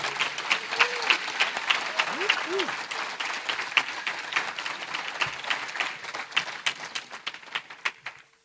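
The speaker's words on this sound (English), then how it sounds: "How about one more round of applause for all of today's amazing award winners?" Crowd applause for award winners at a celebration event: brisk, continuous clapping from many people close by, with a few brief whoops and cheers rising early on before it tapers off at the end.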